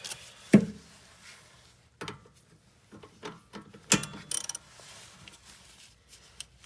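Rear brake bolts being tightened on a 2012 Nissan Altima coupe during a brake and rotor change, heard as sharp ratcheting clicks and metallic clanks in short bursts, close by, with no talk.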